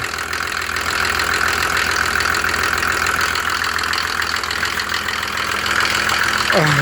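Mercedes OM603 diesel engine mounted on a motor pump running steadily, a loud continuous clattering drone that begins to wind down at the very end.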